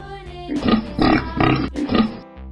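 A pig grunts four times in a steady rhythm, loud and close, each grunt short and nasal, with no one speaking.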